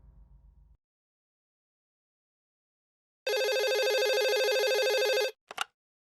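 A telephone rings in a Tamil television drama scene: one sustained electronic ringing burst of about two seconds, followed by a brief click, with silence around it.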